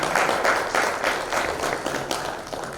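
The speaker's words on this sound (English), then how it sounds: "So let's clap for him up until he gets on the podium." Audience clapping at a youth report launch event, a steady wash of applause from a crowd that holds fairly even throughout and fades slightly at the end, with no speech over it.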